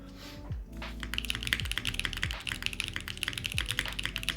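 Rapid, steady clacking of keystrokes on a custom-built Univers mechanical keyboard, close and fairly loud, with a brief pause near the start before the typing runs continuously.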